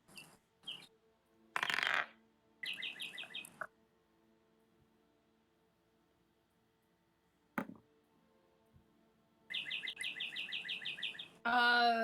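Bird-call sound effects play during a Dungeons & Dragons tabletop session: two bouts of bright, repeated chirping, separated by quiet stretches with a few soft knocks and rustles, all fairly faint.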